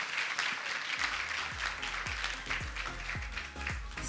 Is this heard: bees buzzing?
no